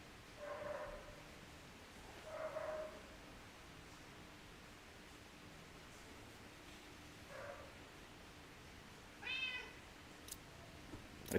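Cat meowing indoors, a few faint, short meows spaced apart over quiet background hiss, with no talk.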